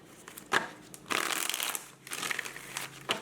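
Tarot cards are shuffled and pulled in close, quiet bursts of riffling and papery sliding, with a few soft taps between shuffles.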